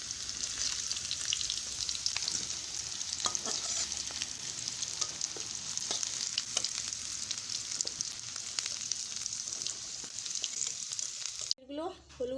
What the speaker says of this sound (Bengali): আমাদের হিঁচড় আর আলুগুলো সব ভাজা হয়ে গেছে